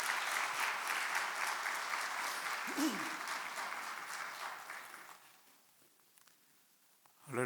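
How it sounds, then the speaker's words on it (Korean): A church congregation claps to welcome a pastor to the front, a sustained wash of applause lasting about five seconds before thinning and dying away into quiet room sound, with a brief voice near the start. "우리 강동진 목사님 나올 때 우리 박수로 한번 크게 환영하도록 하죠."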